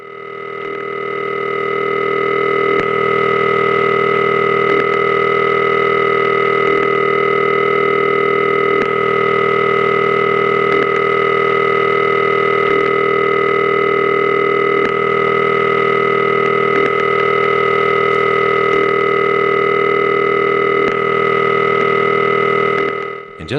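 Step-ESS telephone exchange equipment hums with a loud, steady dial-tone-like drone, faint ticks marking the ringing cycle as it switches phase roughly every two seconds, continuous and alone.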